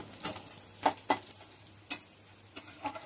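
Food sizzles in a pan with a soft continuous frying hiss broken by several sharp scraping stirs, close by and moderately quiet, no talking.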